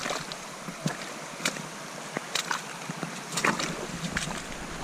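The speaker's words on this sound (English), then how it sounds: "you hear the Wapiti River up there" The Wapiti River in Fiordland flows nearby as a steady broadband rush, with intermittent rain patter and brief clicks over the constant water noise.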